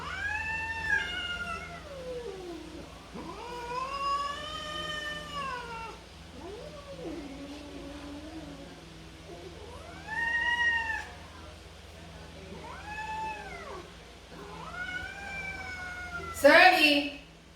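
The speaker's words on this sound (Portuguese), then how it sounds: "Porque briga de gato também não é uma coisa muito agradável." Two cats fight indoors, trading long drawn-out yowls and caterwauls with rising and falling pitch, several separate wails spaced by pauses, ending in a sharp loud hiss-like burst.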